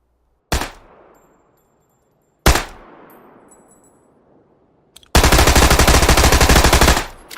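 Gunfire on an FBI shooting range during agents' practice: two sharp loud single shots with decaying echoes, then a sustained rapid burst of automatic fire lasting about two seconds.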